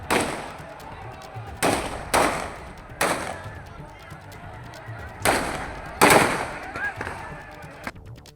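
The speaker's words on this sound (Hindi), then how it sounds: "फायरिंग की जो आवाज है साफ सुन पा रहे होंगे आप" Police fire several rounds into the air during unrest in Zira, Punjab: sharp, loud cracks spaced a second or so apart echo over a rumbling crowd, with a voice talking underneath.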